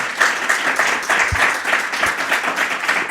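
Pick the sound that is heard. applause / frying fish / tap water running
applause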